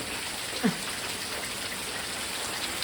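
Steady rain falls during the rainy season, a soft even hiss of drops on surfaces that carries through the whole stretch, with one brief low thump near the start and no voices.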